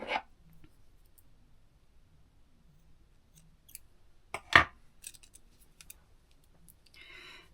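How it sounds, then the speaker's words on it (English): Scissors snip off the yarn ends of a crocheted grey wrist strap lanyard, a few crisp close cuts standing out against near silence, with faint handling clicks between them. "and just cut my ends off"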